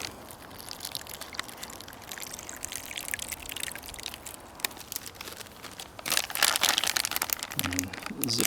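Water pours and trickles into a crinkly MRE flameless ration heater bag outdoors, a continuous splashing stream with plastic rustling that grows louder and busier near the end.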